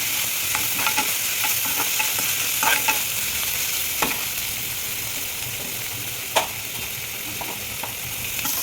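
Curry leaves crackle and fry in a pan for veg Manchurian, a constant sizzle broken by light scraping strokes of a spoon.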